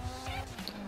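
Karuma armoured car driving in GTA V on PS4, a steady low engine drone with brief tire squeal and skidding over one second, close and fairly loud.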